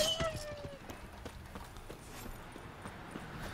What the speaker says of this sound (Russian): Мразь нападает на мою лошадку.